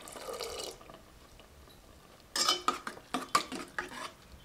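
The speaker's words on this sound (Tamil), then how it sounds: "இப்போ 2வது தேங்காய் பால் விட்டுக்கலாம்." Coconut milk is added to a pot of wheat rava payasam, with a soft liquid rush at first, then a quiet pause and a run of close clinks and stirring knocks against the pot, with no talk.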